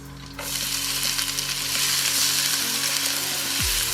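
Onions and garlic fry in a pan over medium heat, a bright, steady sizzle that starts abruptly and holds loud and close, with a low hum underneath and a faint stir or two.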